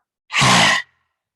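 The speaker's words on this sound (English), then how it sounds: "Tongue comes out the mouth, eyes wide. It's rasping sound." A single forceful rasping exhale with the tongue out during a yoga breathing exercise, a short breathy roar heard close and alone.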